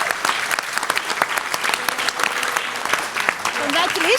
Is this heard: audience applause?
yes